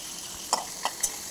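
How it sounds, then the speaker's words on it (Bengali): Rohu fish frying in oil in a pan: a steady, close hiss of sizzling with a few light metallic taps of a spatula, and no talking. "এদিকে মাছ ভাজা হচ্ছে।"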